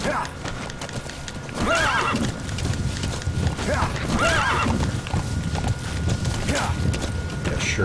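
A horse whinnies twice amid steady clip-clop hoofbeats, with a game-like soundscape and a voice talking over it.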